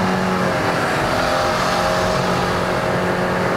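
A Perodua Myvi 1.5L with a D-CVT gearbox accelerates hard on a mountain road, its engine droning steadily and loudly from inside the cabin, with no talking.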